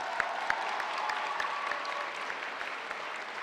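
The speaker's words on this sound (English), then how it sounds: "y'all clap it up for her, please." A school audience at the Cary Academy jersey retirement ceremony for Trey Murphy III claps steadily and densely, a sustained even wash of applause with no talking over it.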